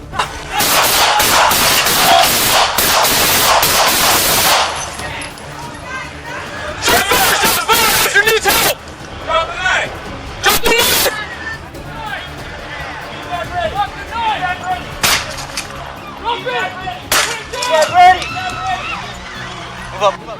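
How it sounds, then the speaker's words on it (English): Police officers firing service weapons at an armed suspect holding hostages, 18 rounds in all: a dense, loud volley of rapid shots, then separate bursts and scattered single cracks, with raised voices and commotion mixed in. "A total of 18 rounds were fired to stop the assailant."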